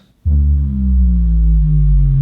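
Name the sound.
time-stretched sound dropping in pitch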